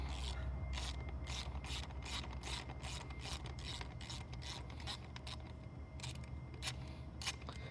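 A socket ratchet with a 17 mm (11/16 inch) socket loosening the nozzle of a SolaTecs SolaBrush, giving a quiet, fast, regular run of clicking pawl ticks close up, steady throughout with no voices.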